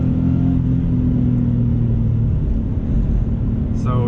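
A 1994 JDM Subaru WRX wagon's engine holds a loud, steady high-rev drone near the 7,000 RPM redline, with a strong low rumble throughout and a brief rising whine near the end.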